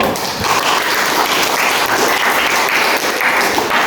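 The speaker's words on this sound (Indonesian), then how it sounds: "Tepuk tangan dulu." Loud, dense applause from a classroom audience during a teacher training session, continuous clapping that stays even throughout with no voices on top.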